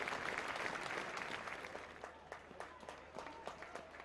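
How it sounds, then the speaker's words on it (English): Kilmarnock supporters applauding at a football match as a player is led from the field, a broad crowd clapping wash that fades toward scattered claps. "being led from the field to the applause of the Killie supporters"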